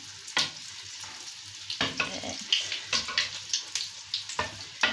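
Sesame balls frying in hot oil give a steady crackling sizzle with repeated bursts of spitting, close and fairly loud; a single brief spoken word is heard at one point.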